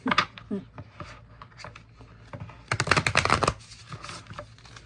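A deck of Animal Spirit oracle cards is shuffled at close range, soft riffling and sliding bursts with a denser flurry near the end, quiet and intimate, with no talking.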